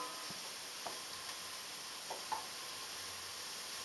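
Onion and garlic frying in a pan, a soft steady sizzle with a few light knocks as a wooden spoon stirs them around.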